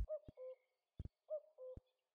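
Birds calling in the Dinaric Alps wilderness of the Balkans, soft cooing hoots in two-note phrases repeated twice, faint and distant against near silence, with a couple of brief knocks between the calls.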